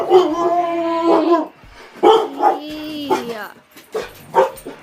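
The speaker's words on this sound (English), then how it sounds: "Sorry about my dogs." Several pet dogs bark, yip and whine loudly nearby in a home kitchen, with a brief spoken word among the noise.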